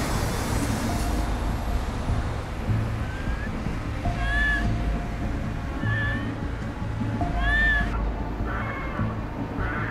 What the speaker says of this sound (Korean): 며칠 전서부터 고양이가 야옹야옹 울어요.